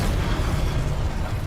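A sustained, roaring fire-spell blast in Hogwarts Legacy, a dense low rumble holding steady and loud for its whole length with no voices over it.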